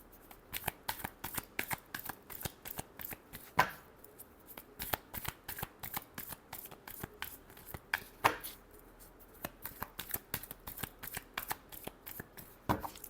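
Tarot cards being shuffled by hand, a run of soft, quick riffling flicks and taps up close, with a couple of sharper slaps among them.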